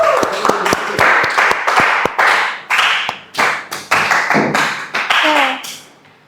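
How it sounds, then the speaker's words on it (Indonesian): Classroom applause with a teacher's class clapping: sharp individual claps begin scattered, then build into uneven rounds, close and loud, with children's voices chattering over it. "Beri tepuk tangan dulu"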